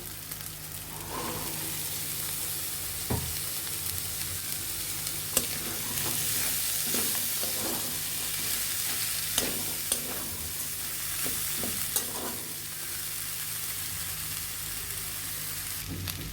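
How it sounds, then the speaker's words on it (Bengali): Boiled chickpeas stirred into fried masala in a pan sizzle continuously, with intermittent scraping strokes of a spoon against the pan recurring every second or two, close and fairly loud, no talking. "আমরা এভাবে বুটগুলো এক থেকে দুই মিনিট ভালোভাবে মশলার সাথে মাখিয়ে নেব"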